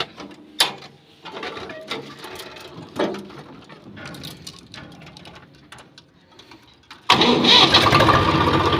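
A two-wheeler with a gear lock problem, sitting in neutral, goes through a few mechanical clicks and clunks. Then the engine starts abruptly and settles into a loud, steady idle close by.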